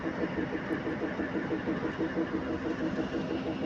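The Mangala Express pulls into Karur station on a cold early morning, its locomotive engine humming steadily and fairly loud at close range, with a constant low throb throughout.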